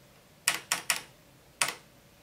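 Keys struck on an electric typewriter that uses floppy disks: four crisp, clacking strikes, three in quick succession and one after a short pause, over a quiet background.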